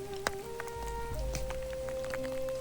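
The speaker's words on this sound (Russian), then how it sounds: "Как и обещали синоптики, апрельский циклон задержался и принес 4 дня проливных дождей." Steady spring rain patters on surfaces in a forest, with scattered close drops over a constant wash of rainfall and no voices.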